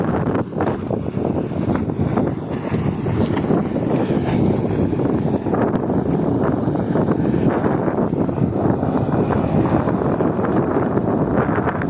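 A motor boat out at sea off Oman, near Masirah, runs with a constant loud engine drone mixed with heavy wind buffeting the microphone, steady and unbroken throughout.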